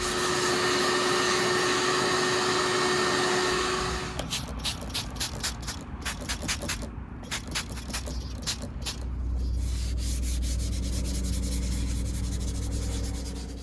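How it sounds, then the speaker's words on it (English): A wooden knife being hand sanded with sandpaper gives rapid rhythmic rubbing strokes after a steady whirring machine hum, followed by a low droning noise, close and without talk. "I like to hand sand my wooden knives."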